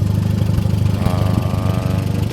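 Allis-Chalmers D17 tractor pulling a round baler through raked hay in a field, its engine a loud, close, steady low throb with a mechanical whir rising over it partway through.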